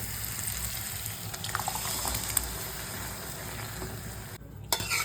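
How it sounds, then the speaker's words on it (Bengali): Boiled peas being stirred into a frying spice mixture sizzle quietly while a spoon scrapes and stirs through them, with a soft, wet bubbling and a brief clink near the end. "এবার এটাকে একটুখানি ভালো করে মিক্স করে নিই মশলার সাথে"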